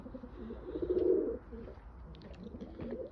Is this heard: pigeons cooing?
yes